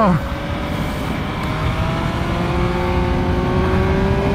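The engine of a 2018 Triumph Speed Triple RS, a 150-horsepower street motorcycle, pulls hard under acceleration on a test ride, its loud droning tone climbing steadily in pitch over rushing wind.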